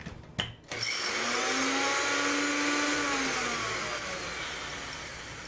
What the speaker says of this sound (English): I'm adding the flaxseed to the blender and blend them a little bit.